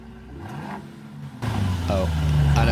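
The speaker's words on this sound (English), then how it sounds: "There's a video of my friend revving the engine." A car engine revs up and holds at a higher, louder pitch, with a person talking over the rumble.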